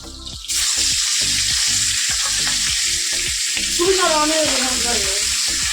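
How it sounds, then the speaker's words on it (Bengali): Fish frying in oil in a wok, with a loud continuous sizzle that starts abruptly after a brief quieter moment; faint voices and clatter sit underneath. "মাছটাকে এদিকে ভেজে নেবো"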